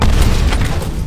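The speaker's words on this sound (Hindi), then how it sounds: "एक और धमाका हुआ।" An explosion in a Hindi-dubbed Hollywood film, one loud deep boom with a rumbling roar that fills the whole moment.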